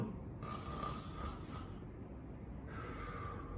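A person imitates snoring during an inhalation breathing exercise, making two drawn-in breaths with a throaty, buzzing rasp. Both are close and fairly loud, with a brief pause between them.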